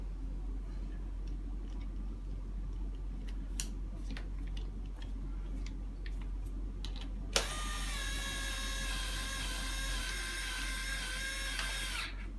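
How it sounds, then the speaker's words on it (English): A cordless electric screwdriver drives screws while refitting the folding trigger on a Bugaboo Donkey/Buffalo stroller, its motor whirring steadily for several seconds in the second half after scattered small clicks and handling noises. "I don't have the strongest of electric screwdrivers"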